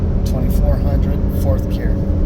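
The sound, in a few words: Cummins diesel truck engine with Monster Ram intake, pulling camper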